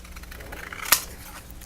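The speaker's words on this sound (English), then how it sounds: "for cutting, I'm using my Pro scissors, my large pair." Large Pro scissors cut paper, giving soft rustling snips and then one sharp crisp cut, close by and fairly quiet.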